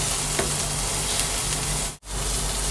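Cognac sizzles in a hot pan over high heat for a peppercorn sauce. A loud, steady hiss and crackle continues throughout, close up, with a brief dip near the end.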